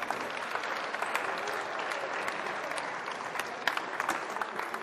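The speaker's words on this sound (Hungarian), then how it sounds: "kérjük egy nagy tapsot a lányoknak és az edzőknek" An audience at a workshop session gives a steady round of applause for the girls and their coaches, dense clapping sustained at even volume throughout.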